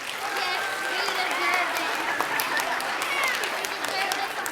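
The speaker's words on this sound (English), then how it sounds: "If we can give them a big round of applause" A city council meeting audience applauds a school performance group, with dense, sustained clapping that fills the room at a steady level and a few voices and cheers mixed in.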